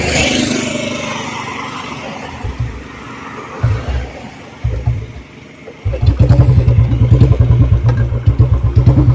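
A Royal Enfield Bullet motorcycle with a modified carburetor setting runs close by, starting with soft, uneven idling thumps that settle into a loud, steady thumping beat.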